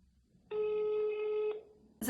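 A telephone rings once in a steady tone for about a second, then a second ring starts as the call goes unanswered while trying to reach an office.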